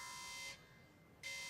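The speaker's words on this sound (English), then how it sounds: "The alarm has gone off." An alarm sounds in the card game Magic: The Gathering Arena, a steady buzzing electronic tone that cuts out briefly and then starts again, fairly loud, with no voices.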